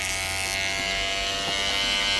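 Electric hair clippers buzzing steadily while cutting a skin fade, a close, continuous whirring hum with a slight shift in tone as the blades move through hair.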